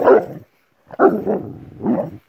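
A dog barks close by in three loud, rough bursts spaced apart, the second one drawn out into a growly, yelping run, with no talk over it.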